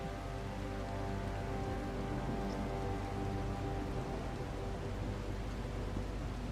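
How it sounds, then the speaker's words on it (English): Steady video game rain from The Last Caretaker hisses continuously, an even wash of falling drops with no voices and no change in intensity. "Why is it raining out here, then?"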